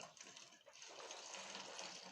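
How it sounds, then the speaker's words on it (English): Water poured from above into a container whose hole is closed off with a finger during a physics demonstration, giving a steady, close, splashing gush with no talk over it. "When I pour some water,"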